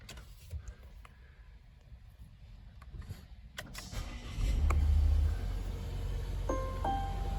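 A 2020 Volvo S90 starts up after a quiet stretch, its engine catching with a surge partway through and then settling into a steady, close idle, with a few chimes from the car at the end.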